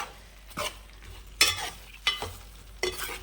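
Sambar with dal and drumstick pieces is stirred in a pot, giving several distinct scraping and splashing bursts at irregular intervals, fairly close and clear with no talk.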